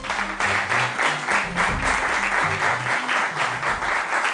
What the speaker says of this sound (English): Please, round of applause, please.